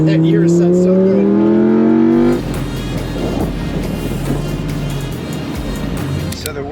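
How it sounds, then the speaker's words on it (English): A Lamborghini Urus engine revs loudly and close, its rising tone climbing for about two seconds before giving way to a rougher, rumbling drone with wind-like noise. "Oh, that Urus sounds so good."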